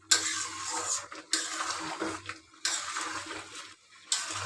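Bottle gourd and egg curry is stirred in a pan with chopped coriander, giving several close scraping, sloshing strokes that rise and fade in a repeating rhythm, with no talk.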